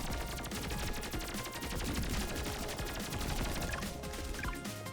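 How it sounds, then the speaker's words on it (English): Rapid continuous gunfire from a bacteria-battling action roguelite shooter game, dense fast-repeating shots forming a loud steady barrage with no gaps, no voices. "And so this is how often we can shoot."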